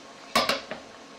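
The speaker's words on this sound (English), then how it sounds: "And then I'll switch this for my cast iron skillet." A cast iron skillet is set down on a stove, giving two quick metallic clanks and then a fainter knock, with a quiet kitchen around it.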